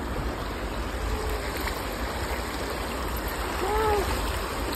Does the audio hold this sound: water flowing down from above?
yes